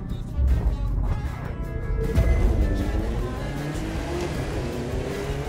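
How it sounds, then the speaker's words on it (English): A Porsche Turbo 3.6 accelerates hard in a street race in the video game The Crew 2. Its engine roars loud and close, with the pitch climbing steadily as it speeds up through the whole stretch. "That car's really moving."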